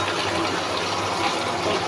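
Soy sauce poured into a spice mixture in a cooking pan, a steady hissing, bubbling wash of liquid and sizzle, close and fairly loud, with no voice over it.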